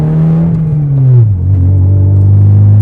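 A 30-year-old car with a manual gearbox and nearly 300,000 km on it drives along, its engine a loud, smooth, steady drone close to the listener that drops in pitch partway through, as if after a gear change.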